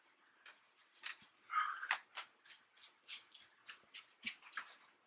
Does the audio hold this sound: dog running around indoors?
yes